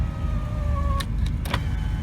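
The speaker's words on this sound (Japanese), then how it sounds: "電動ミラーとパワーウィンドウがついています。" Power window motor whirring briefly in the cabin of a Honda Civic SiR II EF9 with B16A engine, a short electric hum over steady low background rumble, near and moderately loud.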